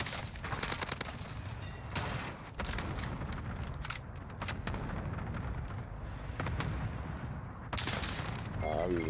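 PP-19 submachine gun fire in Call of Duty Warzone on Rebirth Island: rapid sustained bursts of gunfire nearly fill the stretch, broken by brief pauses, loud and close.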